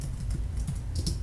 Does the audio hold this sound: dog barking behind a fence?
no